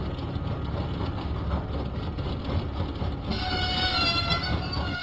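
Diesel engine train rolling along in a Thomas and Friends video game, a steady rumbling engine drone with soft rhythmic rail clatter, continuous and fairly loud, brightening slightly toward the end, no voices.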